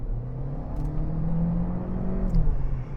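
A GAC Empow car's engine while driving, a steady low rumble and whir from the cabin that swells slightly toward the end, with no talk.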